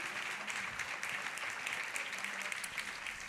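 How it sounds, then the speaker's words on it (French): An audience claps at a trophy ceremony, a dense, steady applause with no voices heard. "applaudissements peut-être pour toutes les équipes qui travaillent pour vous"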